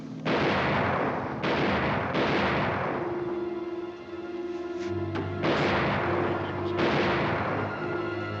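Gunfire volley in a 1952 swashbuckler battle scene: repeated loud overlapping rifle and cannon-like blasts rolling through the whole stretch, with a steady tone underneath and no talk.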